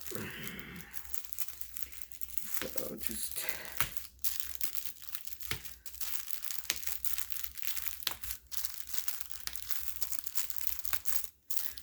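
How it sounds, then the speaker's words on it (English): Tissue paper being torn off a machine-quilted quilt, sewn with a pantograph design on a domestic sewing machine, gives close, repeated crinkling and ripping bursts, with someone speaking briefly over it. "starting to rip the tissue paper off"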